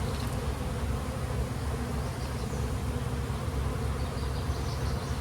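Dense, steady buzzing of honey bees inside a hive being built up for a second deep box, a continuous close drone with no break or voices.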